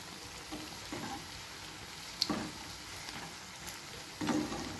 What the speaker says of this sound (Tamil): எல்லா பாசி பயிர் வடையும் தட்டி எண்ணெயில் போட்டாச்சுங்க